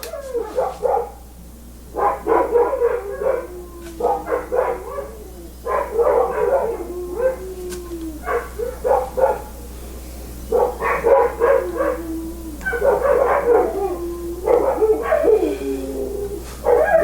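Several dogs outdoors bark in repeated bursts with yips and a rising howl, fairly near, with brief pauses between volleys over a low steady hum.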